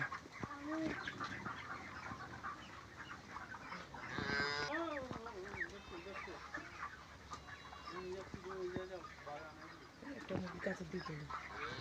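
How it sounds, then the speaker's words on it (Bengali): Poultry chickens feeding at a farm, with scattered clucks and faint calls over low barnyard background noise, while people talk nearby. "এই যে পোলট্রি খাবার খাচ্ছে"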